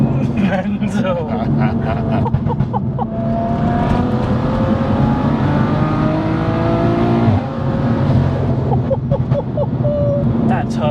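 A 650bhp BMW M2 with a big single turbo revs hard and continuously, its engine note rising and falling close by, with people talking over it throughout.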